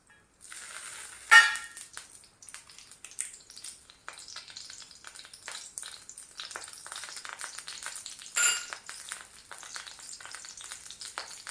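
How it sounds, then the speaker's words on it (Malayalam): Mustard seeds and dried red chillies fry in hot coconut oil, giving a steady crackling sizzle with two sharp louder pops early and late, and no voices. "അതിലേക്ക് നമുക്ക് കടുകും വറ്റൽമുളകും ഇട്ട് കൊടുക്കാം."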